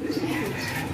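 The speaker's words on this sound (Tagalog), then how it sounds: "Ito na yata yung ibon natin mga kalapatids." Racing pigeons cooing close by as a bird returns to the loft during summer training in Victoria, Tarlac, a soft steady murmur of low coos under faint higher chirps for about a second.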